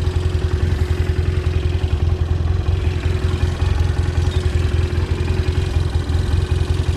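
A Yamaha TDM 850 (3VD) motorcycle idles close by, a loud, steady throbbing engine with an even mechanical rhythm and light clatter, running alone without talk.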